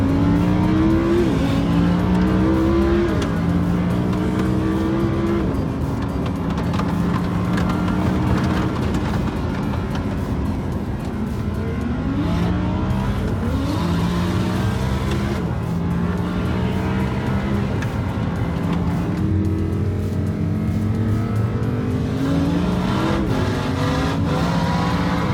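A 2017 two-wheel-drive Lamborghini Huracan is driven hard, its engine revving up and down in repeated surges while the tires squeal, loud and close throughout with no talking.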